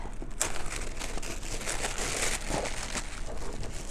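NOTIQ product packaging crinkles and rustles as it is handled and opened, with a dense run of close, crackling paper-and-plastic sounds and no talking.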